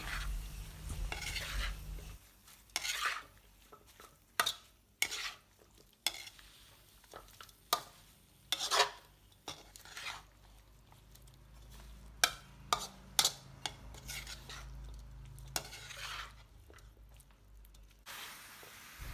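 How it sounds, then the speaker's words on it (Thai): Catfish jungle curry stir-fried with holy basil leaves in a pan, repeated spatula scrapes and clanks against the pan over a low sizzle, rhythmic and close. "หลังจากนั้นก็ผัดให้ใบกะเพราสลดความร้อนค่ะ"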